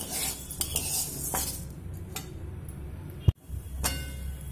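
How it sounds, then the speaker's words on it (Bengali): Black gram (biuli) dal is dry-roasted in a pan over a medium flame, with a spatula scraping and clinking against the metal in short bursts and a soft sizzle underneath, ending in one sharp knock. "তো মিডিয়াম ফ্লেম করে ডালটা খুব সুন্দর করে ভেজে নেব।"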